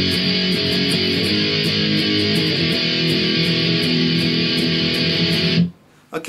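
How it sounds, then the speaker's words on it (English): Electric guitar playing the chorus of a song, the second guitar part, loud sustained distorted chords with rhythmic pick attacks, then stopping abruptly near the end. "Guitar two is going to sound like this then."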